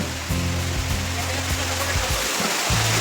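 Rain pours steadily during a Saturday morning ride, a broad, dense rush of water with low rumbling underneath that continues without a break.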